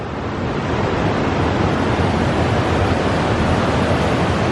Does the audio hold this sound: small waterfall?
yes